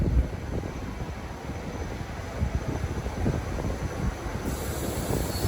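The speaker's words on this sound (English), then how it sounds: "we have a Trenton-bound SEPTA train" A Trenton-bound SEPTA commuter train of GE Silverliner IV cars rolls past in North Philadelphia as a steady, fairly loud rumble of wheels and cars, with no horn heard.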